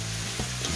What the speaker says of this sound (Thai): ผัดให้แห้งนะคะ